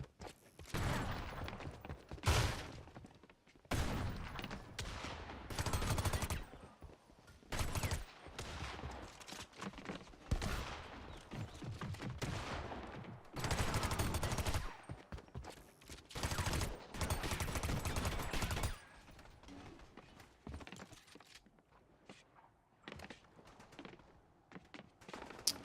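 Video game gunfire from several guns, dense loud bursts and rapid volleys coming in repeated clusters with short gaps, trailing off toward the end.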